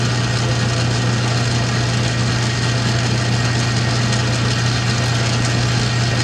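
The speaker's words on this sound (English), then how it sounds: "My center drill first." A center drill cuts into metal on a machine during wedding ring making, a steady, unbroken motor drone with a low hum running throughout.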